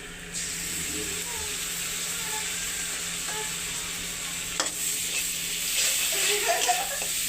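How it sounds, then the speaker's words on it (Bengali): A spoonful of ginger garlic paste hits a hot pan while jingalu is cooked Kolkata-style, giving a steady close sizzle that continues throughout, with a few light stirring clinks and scrapes toward the end. "1 চামচ আদা রসুনের পেস্ট দিয়ে দিলাম বন্ধুরা।"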